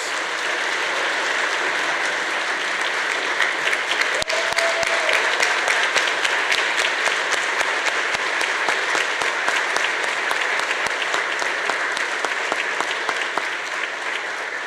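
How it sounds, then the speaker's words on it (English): Steady, dense applause from a large crowd at a graduation ceremony continues throughout, with a few sharper individual claps standing out. "Let's have one more round of applause for all of our graduates."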